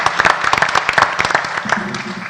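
Scattered applause from a small group at a school board meeting, individual claps audible in an uneven rhythm, with a voice speaking faintly underneath near the end.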